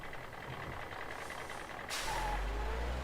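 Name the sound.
Two-Face's truck in Lego Batman video game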